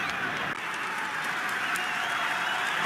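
Stadium crowd applauding as Juventus forward Dybala leaves the pitch, a broad, steady wash of clapping and crowd noise that holds at the same level throughout, with no talk over it.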